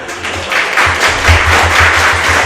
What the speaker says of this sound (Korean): 화동에서 박수 부탁드립니다